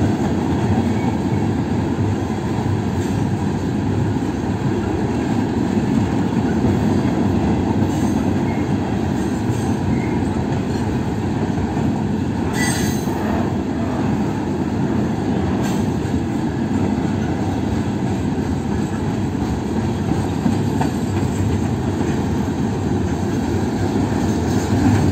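KCSM mixed freight train hauled by GE GEVO locomotives rolls steadily past, a continuous loud rumble of wheels and cars with occasional faint squeals, no voices.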